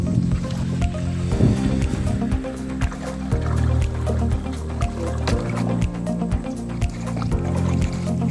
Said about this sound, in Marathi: होडी आमची तयार झालेली असा. आता ती आम्ही पाण्यात नेत असो.